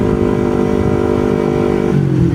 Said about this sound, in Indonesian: Ke kantor naik motor